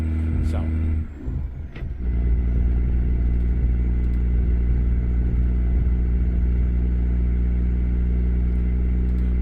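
Truck engine in American Truck Simulator on an Australian outback bitumen road, a steady deep droning hum that runs continuously, dipping briefly early on before settling back to an even, close rumble.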